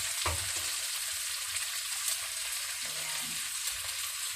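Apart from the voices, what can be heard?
pork ribs frying with butter garlic in pan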